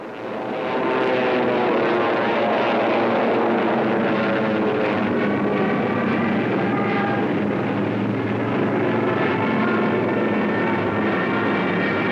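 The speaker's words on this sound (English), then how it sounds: "German fighters waited overhead" Propeller-driven German fighter aircraft flying overhead during wartime, a steady, loud engine drone holding throughout with a broad roaring hum and no talk.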